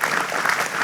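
Audience applause at a talk-and-music gathering, a dense steady wash of clapping filling the whole short moment without a break.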